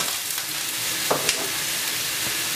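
Sliced mushrooms sizzle and crackle steadily in hot olive oil in a pan, a close, continuous frying hiss with a couple of soft clicks midway and no talking.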